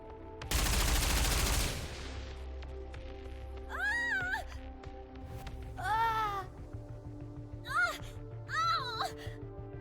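Gunfire in a story cutscene of the video game Goddess of Victory: Nikke, a loud dense burst of shots lasting about a second. It is followed by quieter scene sounds and three short high-pitched vocal cries.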